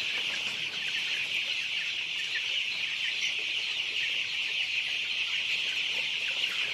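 Color bird broiler chickens cluck in a flock, giving a steady, busy chorus of overlapping clucks close by, with no voices.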